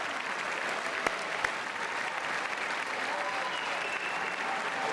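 Sustained applause fills the chamber of Congress during a State of the Union address, a dense, steady clapping from a large crowd that continues throughout.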